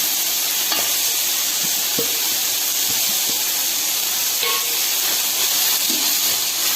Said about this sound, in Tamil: இந்த கேரட் வெங்காயம் பச்சை மிளகாய் இது எல்லாமே நல்லா வணங்கிடுச்சுங்க